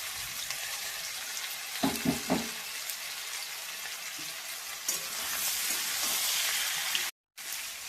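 Fried vegetables hit a pan of sizzling onion, capsicum and tomato, giving a steady frying hiss with a few soft stirring knocks early on and a louder surge of sizzle later, close by and without speech.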